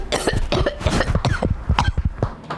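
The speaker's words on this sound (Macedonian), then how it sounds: "Во оваа ситуација, сосем случајно се закашлала бугарката." A woman coughs repeatedly in a rapid, loud, close series of harsh bursts spread evenly through the whole stretch, with no talking.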